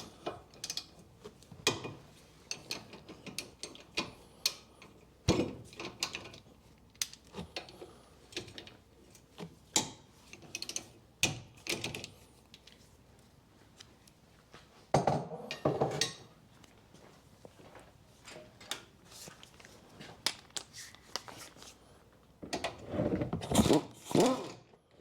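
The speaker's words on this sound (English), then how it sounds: "So we need to take this carrier off to get the disc off. It's held on by 2 bolts" Ratchet working on the brake carrier bolts of a 2004 Mini One 1.6 petrol, irregular clusters of clicks and metallic clanks spread over the whole stretch, close by and moderately loud, with louder bursts in the middle and at the end.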